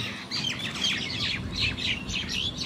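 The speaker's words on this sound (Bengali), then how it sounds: "যা ইংরেজিতে ইন্ডিয়ান রোলার নামে পরিচিত।" Harsh, raspy calls of an Indian roller repeat in quick bursts, fairly close and loud against a quiet background.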